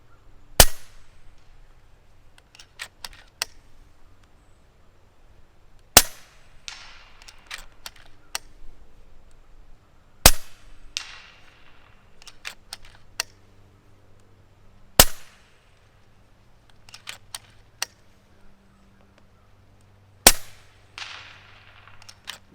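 Shots from an FX Crown MKII .30 caliber air rifle, about five sharp cracks spaced several seconds apart outdoors, each followed by a faint distant knock of the pellet striking a target around 115 yards away.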